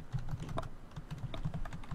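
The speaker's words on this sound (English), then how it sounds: "I hear somebody typing." Rapid, irregular typing on a computer keyboard, close and fairly loud, with clusters of key clicks and brief pauses over two seconds, no voices.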